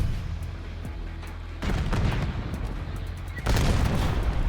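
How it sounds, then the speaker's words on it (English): Bursts of rapid gunfire and booming blasts in Call of Duty: Black Ops 6 multiplayer, loud and close, crowding together with sharp cracks over a rumbling background. "Explosions everywhere."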